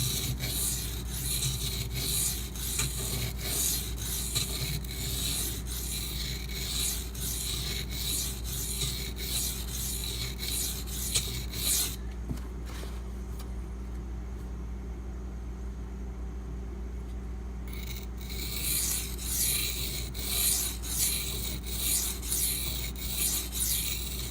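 A Spyderco Native 5 knife with a Maxamet steel blade is drawn across a sharpening stone in a long run of fast, rhythmic rasping strokes, with a quieter pause midway before the steady scraping picks up again.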